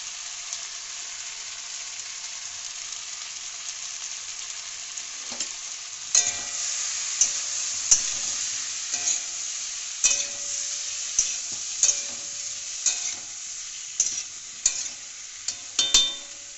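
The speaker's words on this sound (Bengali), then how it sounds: "মশলা দিয়ে কষানো হয়ে গেছে" Spices fry and get stirred in a pot for a Bengali dish, a steady sizzle broken by repeated sharp scrapes and clanks of the spoon that grow more frequent midway, close and with no talking.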